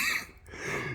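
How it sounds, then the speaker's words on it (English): A single short, breathy throat clearing or cough from a person with an itchy throat, close and quiet, lasting about a second. "I'm probably doing a lot of coughing, so sorry for all that."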